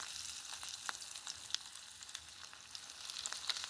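Zucchini fries frying in hot oil in a cast iron pan, a steady soft sizzle with scattered crackles and pops, quiet and close with no talk.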